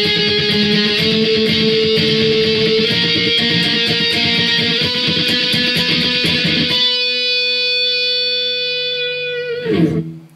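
Electric guitar playing a bridge in muted octaves, distorted and chugging with rapid palm-muted strikes, then a ringing sustained chord that fades before a final scrape, close and loud.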